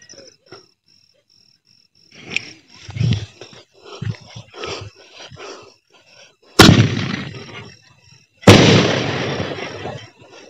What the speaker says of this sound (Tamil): ரெண்டாவது ஷாட் வெடிக்க போகிறோம்